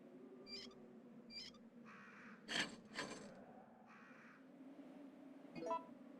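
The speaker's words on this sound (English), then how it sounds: "The crows there are one of the RNG triggers I do tend to forget a bit about." Crows caw in the Resident Evil 3: Nemesis video game, several harsh calls spread across a few seconds, one pair loud and close, the others fainter, over a low droning game ambience.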